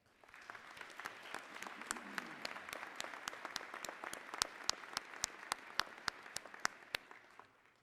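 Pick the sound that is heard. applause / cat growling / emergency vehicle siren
applause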